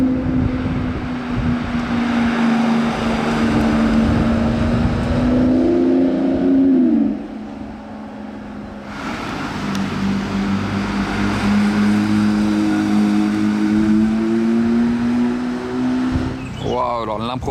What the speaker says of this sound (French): Arrivée du V12.